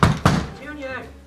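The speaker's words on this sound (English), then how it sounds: "Joseph, go answer the door and tell him I'm not here." Two heavy knocks on a front door land close together near the start, loud and close, and then the room goes quiet with a low hum.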